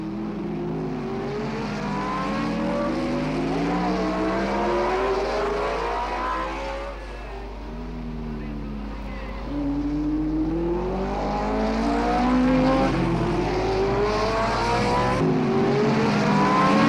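1962 Formula 1 race cars at the Belgian Grand Prix roar past loud and continuous. Engine notes repeatedly climb and fall in pitch as the cars accelerate and shift, with several overlapping over a steady low rumble.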